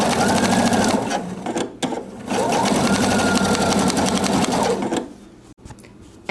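A sewing machine runs steadily at close range, stitching a blind hem along a folded edge with a fast, even mechanical whir that pauses briefly twice before slowing to a stop.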